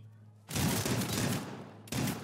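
Sustained burst of video game gunfire erupts after a quiet start, a dense rattling volley that runs for over a second, pauses briefly, then resumes loudly near the end.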